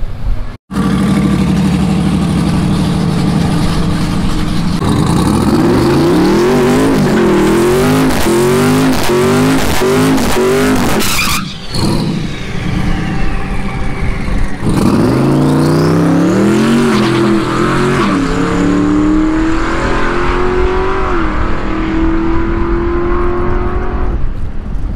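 Loud 1200 hp twin-turbo carbon Dodge Demon at a no-prep drag race, heard close up: idle, hard revving with rapid repeated gear-stepped pitch climbs, a brief cut, then a roaring launch that keeps rising steadily.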